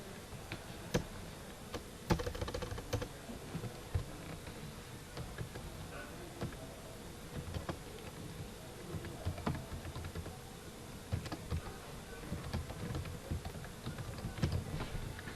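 Typing on a computer keyboard while working in Microsoft Word, with quiet clicky keystrokes in irregular bursts and pauses, heard close and alone throughout.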